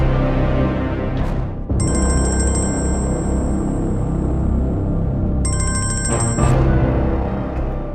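A phone rings in two bursts of bright electronic trilling, the first lasting about three seconds and the second shorter, inside a room with steady background hum and no one talking.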